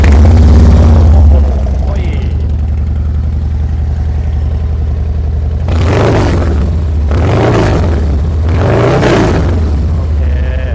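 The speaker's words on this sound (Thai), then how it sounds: "มาฟังเสียงเครื่องกันหน่อยครับ" A 2022 Harley-Davidson Low Rider ST with the 117 engine runs close by, a loud deep idle rumble broken by a few throttle blips that rise and fall.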